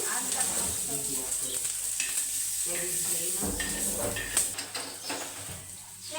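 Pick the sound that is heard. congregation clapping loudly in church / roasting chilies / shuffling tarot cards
roasting chilies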